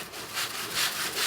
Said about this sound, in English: get the sanding of this glue down, which I gotta be a little bit gentle with, or else I rip off chunks of it.